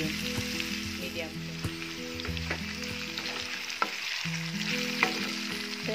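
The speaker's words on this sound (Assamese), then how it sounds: "5 মিনিট মিডিয়াম ফ্লেমত ভজাৰ পিছত এইখিনি লৰাই দিছোঁ" Potatoes for an Indian dry potato dish fry in a pan over a medium flame, giving a steady, even sizzle with occasional clicks as they are stirred, beneath soft background music.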